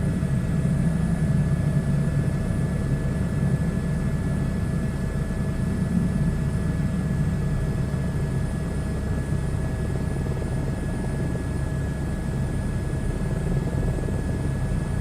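A helicopter cruises fast at 160 to 170 knots in a flight video game, giving a steady, unbroken rotor and engine drone with faint tonal whine, with no voices.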